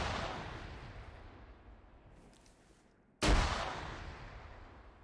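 A frag grenade detonates in the Arma military game, one sharp, loud blast partway through that decays into a long rumbling tail, after a stretch of quieter battlefield ambience with no talking.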